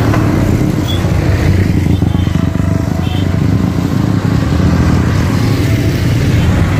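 A motorcycle engine drones loudly and steadily at close range while the bike is ridden, with constant wind rumble over it.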